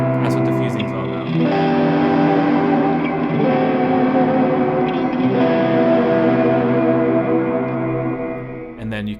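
Electric guitar through an Axe FX 3 multitap delay with diffusion, a loud, dense wash of distorted notes smearing into a continuous reverberant haze that swells and lingers, with a sharp attack at the start and end.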